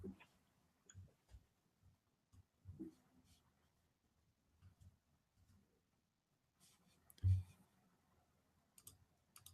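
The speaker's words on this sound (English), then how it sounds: "So I'm just going to type one really quick here." Quick typing of a short note on a computer keyboard, heard as faint, scattered clicks and key taps mixed with quiet speech, with one louder thump near the end.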